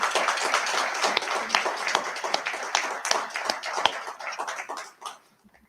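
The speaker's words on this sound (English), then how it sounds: "let's give the families a huge round of applause" Applause from a room of guests for the sailors' families at a Navy change of command ceremony, a dense stretch of clapping with sharp individual claps standing out, holding steady before cutting off abruptly near the end.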